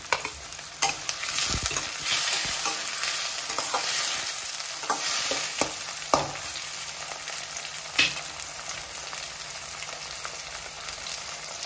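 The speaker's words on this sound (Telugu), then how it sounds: "చూడండి ఆనియన్స్ టమాటా ఇట్లా ఫ్రై అయిన తర్వాత" Onions and tomatoes fry in hot oil for a village-style mutton boti fry, a continuous close sizzle broken by occasional scrapes and knocks of a stirring spoon.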